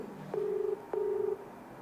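Telephone ringback tone on a live call, two steady, even pulses of ringing, each about half a second, with a short gap between them, clear and alone over faint background.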